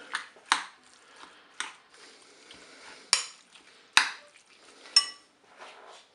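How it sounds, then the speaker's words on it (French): Chopped parsley, tomato flesh, onion and garlic being stirred together, likely in a Cookeo pot, giving a series of sharp utensil clinks and scrapes spaced irregularly, fairly faint, with no talking. "Ensuite, je vais ajouter mon persil haché avec de la chair à tomate, de l'oignon et de l'ail. On mélange tout ça."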